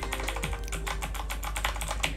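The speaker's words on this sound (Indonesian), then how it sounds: "Nah, ini bunyi blue nih." Rapid clacky typing on an Armageddon SMK12R mechanical keyboard with blue switches, a dense run of sharp, close keystrokes with no pauses.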